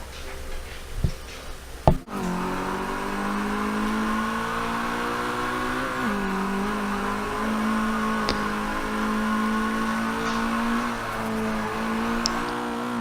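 A Mazdaspeed 3 with a racing turbocharger lapping the Sonoma Short Circuit, its engine droning steadily at high revs from inside the car with small shifts in pitch, after a few thumps at the start.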